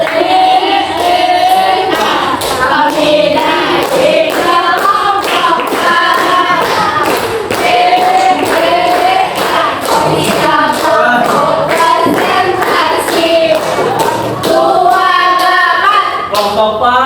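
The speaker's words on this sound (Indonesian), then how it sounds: "Tepuk." A classroom group claps hands in a steady, regular rhythm, with sharp claps repeating about twice a second while voices chant loudly along.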